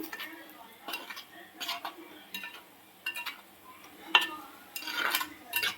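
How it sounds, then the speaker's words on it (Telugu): Eggs with garlic chili paste are stirred in a pan, with intermittent scraping and clinks of a utensil against metal coming in irregular bursts over a quiet background and only faint frying. "కొంచెం ఫ్రై అవనిద్దామండి ఎగ్స్ కూడా, కారం అంతా ఎగ్స్ పట్టాలి కదా."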